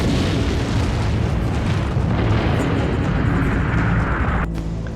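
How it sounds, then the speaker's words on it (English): A nuclear bomb explosion rendered as a loud, sustained, rumbling roar that stays heavy and dense throughout and eases off only slightly near the end, with no voices over it. "When a nuclear bomb is blasted, a very high pressure is being formed"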